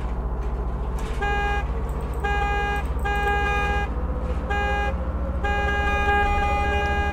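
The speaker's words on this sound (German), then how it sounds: "Die Hupe ist auch kaputt." Broken bus horn in the video game Bus Simulator 16, a harmonic toot sounding in repeated bursts of about a second each over a steady engine drone, with no talk.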